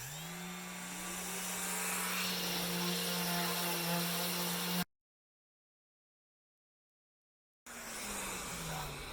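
A Festool Rotex orbital sander runs with a steady high whir and a low hum, building slightly in loudness, then cuts out into silence before a second short burst starts up again.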